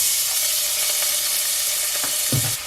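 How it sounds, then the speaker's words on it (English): Minced garlic in olive oil sizzles steadily in a pan, a bright, constant hiss near at hand, with a few soft stirring scrapes toward the end and no talking. "I'm going to add 1 tablespoon of this minced garlic and oil."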